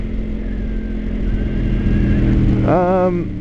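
A motorcycle engine idles with a steady, close rumble, then gives one short rising rev near the end.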